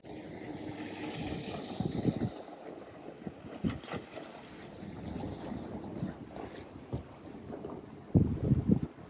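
Gusty wind buffets the microphone beside a lake at Pomme de Terre State Park, Missouri, in uneven low bursts with a stronger rush near the end, over faint distant outdoor ambience.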